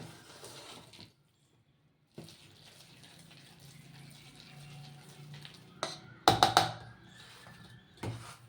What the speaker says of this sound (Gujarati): તો આપણે થોડુંક પાણી એડ કરશું.